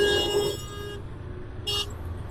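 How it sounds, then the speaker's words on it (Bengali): A car horn sounds on a night road in two short toots separated by a pause, fairly close, over a low rumble of traffic. "এটা আমার বারবার হর্ন দিচ্ছে"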